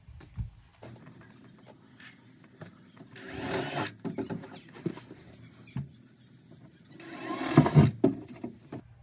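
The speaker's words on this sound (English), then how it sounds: "So here goes, drilling the first holes." Two short bursts of a power drill whirring into wood inside a travel trailer, each lasting about a second, separated by quiet handling clicks and taps.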